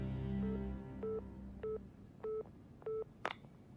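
A telephone is dialed in an animated show: a low tone, then four evenly spaced short keypad beeps, ending in a sharp click, all quiet and clear with no talking.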